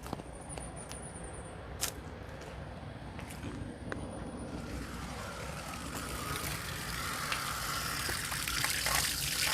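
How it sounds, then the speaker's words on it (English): Steady water flowing through a portable RV water softener makes a constant hiss and gush, moderately faint, swelling slightly brighter toward the end, with a few short clicks early on and no talk. "you're going to turn on your water and let it flow through this for probably 5 minutes"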